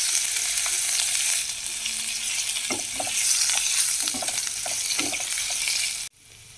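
Chopped onion goes into hot oil left over from frying katla fish and sizzles loudly and steadily, with spatula scrapes and stirring knocks over the hiss, before the sound cuts off abruptly near the end.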